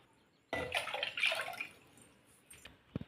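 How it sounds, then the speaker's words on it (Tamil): Water is poured from a tumbler into a pot on a stove, a short splashing pour lasting about a second and a half, followed by faint drips and a light clink. "அடுப்பில் ஒரு பாத்திரம் வச்சு தண்ணி சேர்த்துக்கோங்க"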